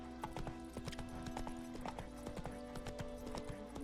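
Hooves of Roach, the horse in the video game Witcher 3, clip-clopping in a steady quick rhythm at close range over a constant low game background hum, with a faint voice.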